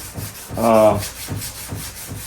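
Rhythmic rubbing strokes of 180-grit wet sandpaper on a sidecar during restoration, a few back-and-forth passes close up, one longer harsher stroke among shorter quieter ones.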